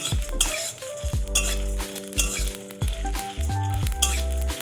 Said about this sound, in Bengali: প্রথমে আমি ভাজা মশলাটা রেডি করব বলে একটু টেলে নেব কড়াইতে